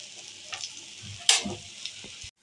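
Lote (Bombay duck) fish cooks over low heat on a flat griddle pan, giving a soft hiss with a few sharp spatters and crackles, one louder burst near the middle.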